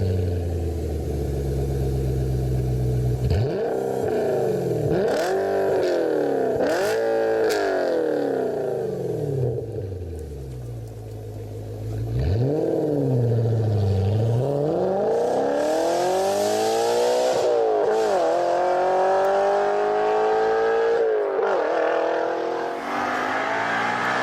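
Audi B7 RS4 with a 4.2 naturally aspirated V8 revs hard again and again, the loud, close engine note sweeping up and falling back through several long pulls, with a brief quieter lull midway and no talk.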